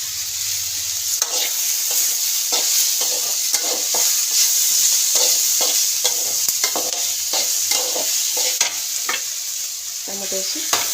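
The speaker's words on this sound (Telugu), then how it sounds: "టమాటో వేసి మగ్గించుకున్నాం." Chopped tomatoes sizzle steadily in a hot pan while a spoon stirs them in repeated scraping strokes, close and loud, with no talk.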